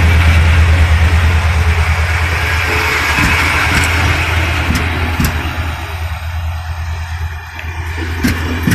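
A Romanian regional train from Sighetul Marmației to Cluj-Napoca, hauled by diesel locomotive GM 962, rumbles past nearby with a heavy engine drone, steady and loud, fading slightly toward the end.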